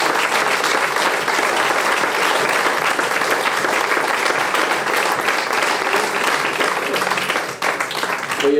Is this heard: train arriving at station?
no